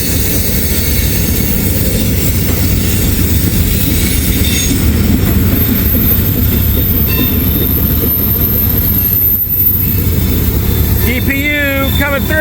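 A freight train with a distributed-power locomotive rolls past close by, loud and continuous, its wagons rumbling and clacking, with metallic wheel squeal rising near the end, and someone talking over the noise.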